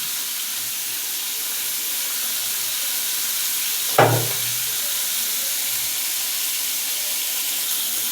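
Rohu fish frying in oil in a kadai gives a steady, even sizzle and hiss throughout, broken by one brief louder sputter in the middle.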